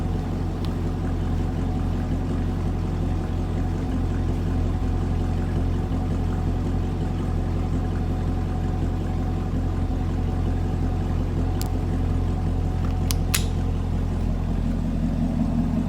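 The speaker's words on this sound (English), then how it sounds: "So let me back the car out and I'll go over a few things with you. Enjoy the exhaust." A Chevrolet Camaro SS idles with a deep, steady exhaust rumble as it backs out, loud and constant for sixteen seconds, with a couple of faint clicks near the end.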